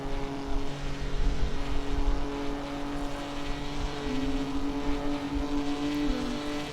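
A Jaguar sports car driven fast through the Scottish Highlands gives a steady, loud in-cabin engine drone with sustained tones that shift in pitch as it accelerates down a long straight, with road rumble underneath.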